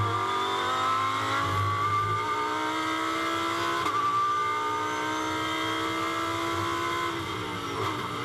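A GT race car engine on track at Brands Hatch during Fanatec GT World Challenge Europe 2023 practice, heard from on board, holds a loud sustained whine that rises and shifts steadily as it pulls up a hill.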